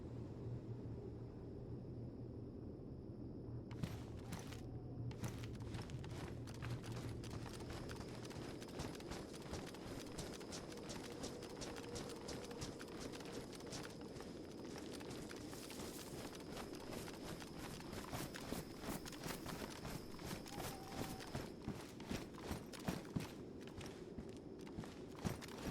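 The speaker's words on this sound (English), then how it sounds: "I heard footsteps." Rapid, repeated footsteps in the survival video game DayZ thud in a quick, continuous rhythm over a low ambient drone, moderately close and persisting throughout.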